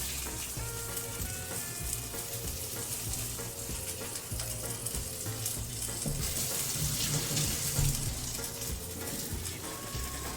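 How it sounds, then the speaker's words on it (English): Osso buco cut from a quarter steer searing in a hot pan, with a dense, steady sizzle and crackle up close throughout, plus faint clinks in the background. "We're starting off with getting a decent sear on them here."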